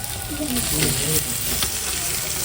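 Onions sauté in a pan for biryani, giving a loud, close hiss and crackle with stirring scrapes, while a voice speaks faintly underneath.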